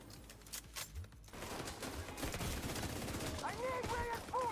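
Rapid bursts of automatic gunfire in the Division 2 video game, a dense crackling volley that starts after a short stretch of lighter shots and continues steadily, with a voice talking over part of it.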